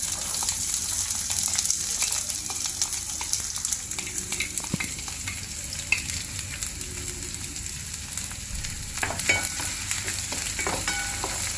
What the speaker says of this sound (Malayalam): അതിലോട്ട് നമുക്ക് ഒരു 1/2 സ്പൂൺ കടുക് ഇട്ട് കൊടുക്കാം